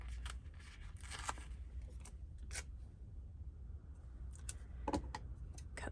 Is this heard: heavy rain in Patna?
no